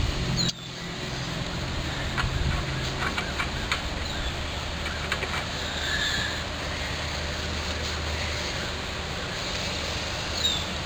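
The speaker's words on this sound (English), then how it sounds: "this engine is pretty well sealed up, runs nice" A small generator engine, freshly cold-started and in need of a carburetor adjustment, runs with a steady low hum and faint mechanical clatter over the whole stretch, with no talking.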